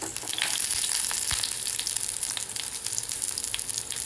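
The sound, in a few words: frying onions in a pan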